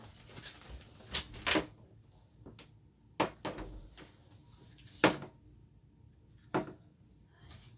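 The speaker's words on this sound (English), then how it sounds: "Uh-oh, I hear a door." Several sharp knocks and clunks ring out indoors, like a house door opening or closing. They are scattered and irregular, some close and fairly loud, with quiet between them and no voices.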